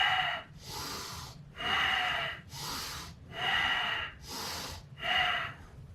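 Slow, even breathing cycles, deep inhales alternating with long exhales, about five breaths, close and fairly loud with no talking.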